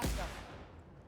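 A laser rifle fires once in The Outer Worlds video game, a single sharp gunlike blast that decays into a brief rumbling tail, fairly faint with no talk.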